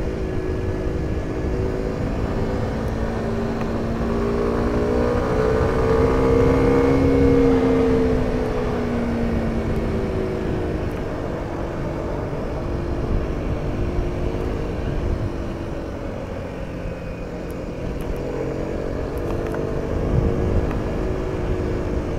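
A 2020 Kawasaki Ninja 125 ridden on the Autobahn, with the engine droning steadily under heavy wind rush, rising in pitch as it accelerates and then holding a sustained high-speed tone, with no talk.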